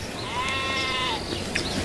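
A single drawn-out sheep bleat with a wavering tone, fairly clear over a steady low background hum.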